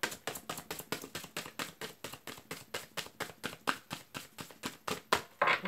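Tarot cards being shuffled in quick, even riffling flicks, a long steady run of soft close snaps with no talk.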